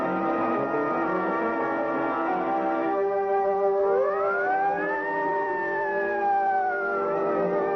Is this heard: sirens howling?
yes